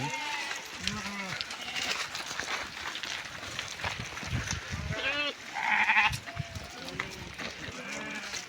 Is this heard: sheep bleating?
yes